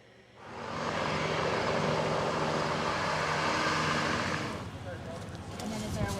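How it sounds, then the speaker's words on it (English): A news helicopter coming down to land in a park gives a loud, steady engine and rotor roar that builds quickly, holds for several seconds, then eases off. "News 4 is landing in the park."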